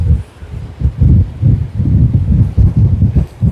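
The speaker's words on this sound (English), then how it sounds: "very windy, guys. Very windy." Heavy wind buffeting a microphone at Sydney Airport in loud, irregular low rumbling gusts that pulse roughly every half second, with no voices.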